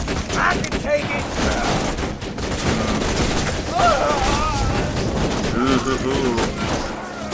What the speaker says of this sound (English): Shots being fired.